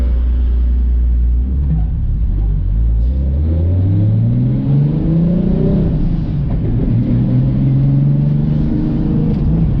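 A Toyota SC300, freshly off the dyno with big power, revs hard from idle and climbs steeply through the gears, a loud, close, deep roar that rises and drops repeatedly.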